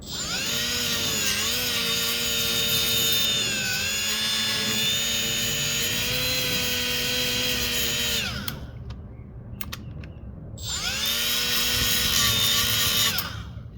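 A Milwaukee M12 cordless right angle die grinder grinding metal, wood and paint, with a loud, high-pitched whine held for several seconds. It winds down to near silence, then spins back up and whines again, up close with no talking.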